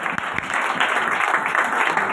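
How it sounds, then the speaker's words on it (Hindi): Dense, steady applause from a church congregation, loud and continuous throughout. "आपकी तालियां, जोरदार तालियों में, जोरदार।"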